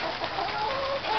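Chickens cluck softly and continuously, a faint murmur of several birds close by with no talking.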